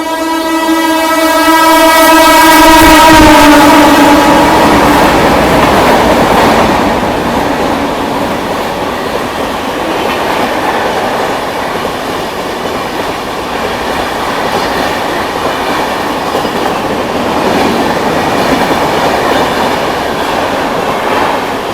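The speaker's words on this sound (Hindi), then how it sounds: "ये अलीगढ़ को 100 की स्पीड पर स्किप करके गई है दरभंगा किलोन" A Darbhanga express train races nonstop through Aligarh junction at about 100 km/h, a loud horn blast at the start giving way to a sustained roar and rumble of wheels and carriages rushing past close by.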